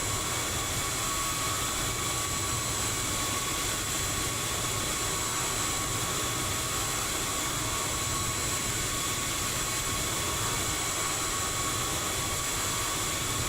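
Airbus A320 jet engines roar at the ramp in Microsoft Flight Simulator, a loud, steady broadband drone that holds unchanged throughout with no voices.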